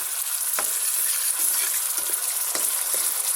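A ginger, garlic, mint and coriander paste fries in hot oil for a chicken biryani, giving a steady loud sizzle throughout, with several short scraping stirs of a spoon in the pan and no voices.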